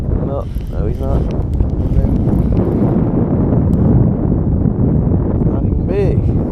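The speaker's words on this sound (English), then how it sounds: "Just that resistance from the wind blowing me back here" Strong wind buffeting the microphone while bass fishing from a boat on Lake Norman, a loud, continuous low roar throughout, with bits of a man's speech breaking through it.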